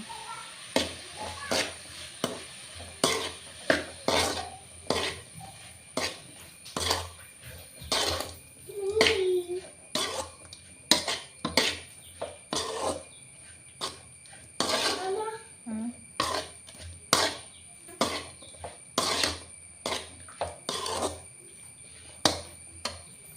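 Food stirred and mixed in a metal pot with a spoon, giving a long string of sharp clinking scrapes at an uneven, steady pace, fairly faint, with a low steady hum underneath.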